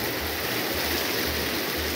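River rapids rush in a continuous loud roar of churning water, broadband and unbroken, with a low rumbling pulse underneath and no voices.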